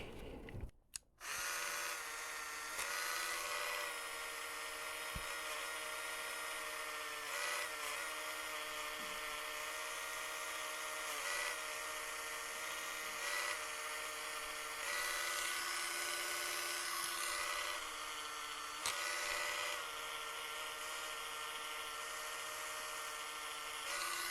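Power grinder working the back spring of an Old Timer 8OT Stockman pocket knife, a high whining buzz that runs steadily for over twenty seconds with brief dips as pressure shifts, close and clear.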